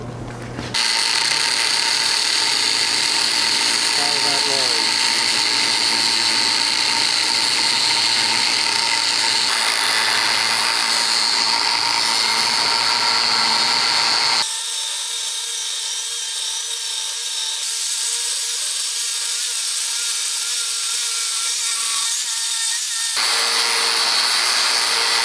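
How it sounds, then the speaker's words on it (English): An angle grinder with a cutoff wheel cuts through metal plate clamped to a work surface, a loud, steady high-pitched whine and screech running continuously with shifts in pitch and load as the wheel bites. "when you're using a cutoff wheel or any kind of angle grinder"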